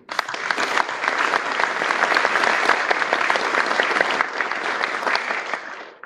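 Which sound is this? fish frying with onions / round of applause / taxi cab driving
round of applause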